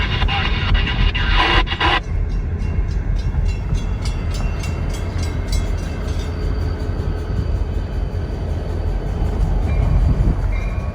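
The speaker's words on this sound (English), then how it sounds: "BNSF Bluebonnet GP50 3167 was leading 2 tank cars" A BNSF GP50 locomotive leads two tank cars on a local branch-line run in the Twin Cities in winter, passing close with a loud, sustained rumble, rattling wheels and a brief hissing burst early on.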